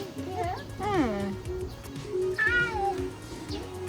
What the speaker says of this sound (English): And you found the cats.